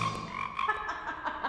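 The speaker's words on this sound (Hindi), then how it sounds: "मेंढक।" A frog croaking sound effect plays as a steady, raspy run of rapid croaks, fairly loud and close, with no voices over it.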